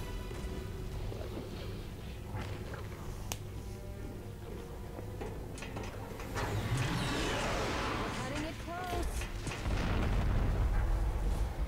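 Explosions and battle noise from the video game Halo: Combat Evolved, a dense roaring wash of blasts with sharp bangs, growing louder and heavier toward the end, with speech over the game sound.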